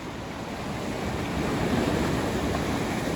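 Incoming tide waves wash up against a sea wall at the coast, a continuous broad surf rush that swells slightly louder midway, mixed with wind noise.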